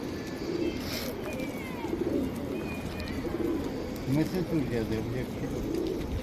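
Pigeons coo in low repeated phrases amid a busy outdoor background with some speech, a soft, steady murmur of calls across the whole stretch.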